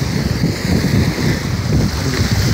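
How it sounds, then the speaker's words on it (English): Ocean waves crash and slam against a rocky shoreline in a loud, continuous surging roar, with wind buffeting the microphone throughout. "there goes the wave. See how it's crescent, slamming against the shore."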